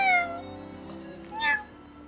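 A person imitates a cat's meow, producing two drawn-out, whiny mews in a row, close and clear with no other sound around them.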